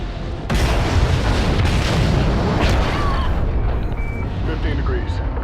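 Thunderous explosion as RCS fuel lines ignite in the video game Call of Duty Ghosts, a sudden boom swelling into a dense, sustained roar of fire and debris that fills the whole stretch at high loudness.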